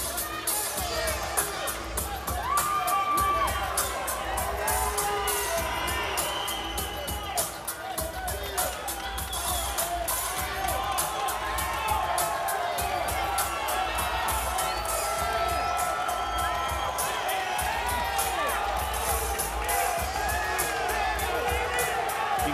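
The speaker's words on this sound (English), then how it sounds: "in front of this raucous crowd that has packed one half of the Grand Garden Arena" Raucous crowd packing half of the Grand Garden Arena for a boxing match, a constant roar of cheers, whoops and shouting that swells and ebbs with a commentator talking over it.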